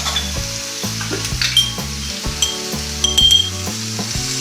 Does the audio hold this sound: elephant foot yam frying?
yes